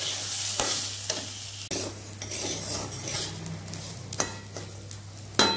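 Gobindobhog rice is stir-fried in a pan for Basanti pulao. A spoon scrapes and clinks against the metal over a light sizzle, in close, uneven strokes with no voices.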